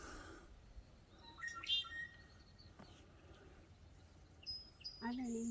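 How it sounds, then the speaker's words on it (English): A wild bird sings in a park setting in Albany, Oregon, giving a few faint, scattered chirps and whistles over quiet outdoor ambience, with a louder call near the end. "there's that bird singing to us up there"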